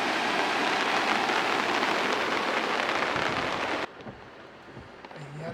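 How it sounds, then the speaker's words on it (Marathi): Heavy rain falling during a monsoon outing, a dense continuous hiss that cuts off abruptly after about four seconds, leaving quieter ambience behind. "पावसाचं वातावरण."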